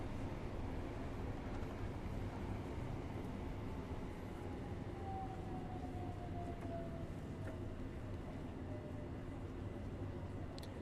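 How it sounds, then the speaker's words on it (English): Train running in Train Sim World on the Mildmay line, a faint steady low rumble of wheels and motors with a thin rising-falling whine partway through, continuous and distant-sounding. "this train does definitely have a different sound set, but I think it's too subtle"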